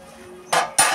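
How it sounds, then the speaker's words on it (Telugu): A lid goes onto a pot of simmering fish curry with two sharp metallic clanks, about a quarter second apart, loud and close against a quiet kitchen background. "అవి ఉడకాలిగా మూత పెడుతున్నామండి"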